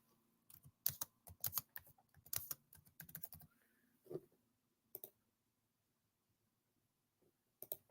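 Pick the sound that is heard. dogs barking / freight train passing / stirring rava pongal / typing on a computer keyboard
typing on a computer keyboard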